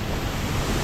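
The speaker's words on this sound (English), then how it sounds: "So this is 50-foot falls, and it's right after Navajo Falls." A 50-foot waterfall at Havasu, just below Navajo Falls, roaring as a dense, steady broadband rush of falling water, close and loud, unbroken, with no voices.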